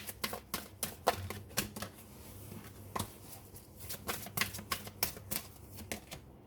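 Tarot cards are shuffled and drawn, heard as a quiet run of sharp, irregular taps and snaps close by, with no talk.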